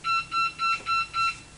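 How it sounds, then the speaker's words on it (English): Five evenly spaced electronic beeps sound in a room, each a short bright tone with a brief gap between, clear and close. "Sorry about the beeping."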